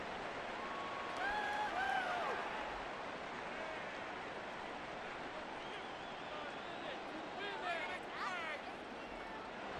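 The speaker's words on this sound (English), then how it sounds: "this crowd trying to force a false start here" A simulated stadium crowd in Madden 24 roars steadily through a Steelers versus Rams game, with a broad, sustained wash of noise that swells briefly and carries faint whistles and cheers.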